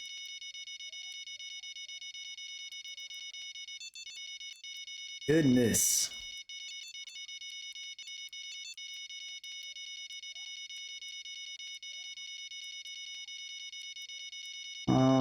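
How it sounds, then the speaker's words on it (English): In the Fishing Planet game, a rod stand's built-in bite alarm sounds as a steady electronic tone with a few quick beeps. A voice speaks briefly over it, and there are short louder bursts of noise. "The pros and cons of having a rod stand with a built-in alarm."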